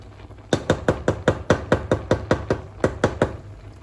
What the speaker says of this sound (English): Now we're gonna stir these in and mix them with the rice.